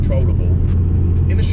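Heavy low engine drone from a 500hp Ford Focus RS Mk2, a front-wheel-drive car, holds steady and loud throughout, with faint higher noise riding on top.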